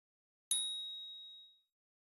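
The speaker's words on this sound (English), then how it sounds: "You will hear a bell chime when the heating is done." A single high, bright electronic ding from a Formech vacuum former signalling heating is done rings out once and fades away smoothly over about a second, clean and isolated.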